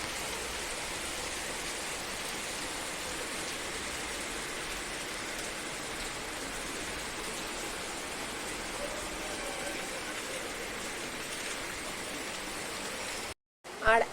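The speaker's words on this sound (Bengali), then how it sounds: "প্রচণ্ড বৃষ্টি পড়ছে, তোমাদেরকে দেখালাম।" A downpour keeps up a constant, dense hiss at full strength for most of the stretch, then stops abruptly in a brief gap just before the end.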